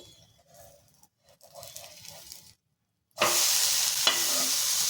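A poha uttapam is flipped in a pan: quiet scraping and stirring, a short silent pause, then a loud, steady sizzle of frying batter that continues to the end.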